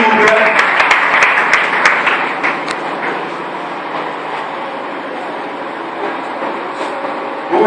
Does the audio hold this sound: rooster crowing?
no